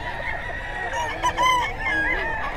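Chickens and roosters at a pet market in Bocaue cluck and crow together, a busy, moderately close mix of bird calls with one drawn-out crow standing out midway.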